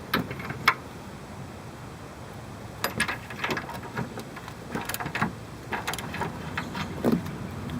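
A regular ratchet loosens a control arm bolt on a car, giving irregular bursts of faint metallic clicking and clanking against a steady low background hum, with short pauses between strokes and no talking.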